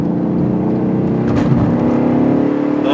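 RENNtech-tuned Mercedes CLS cruising on the road, a steady engine drone with tire and wind noise from inside the cabin, loud and continuous without speech.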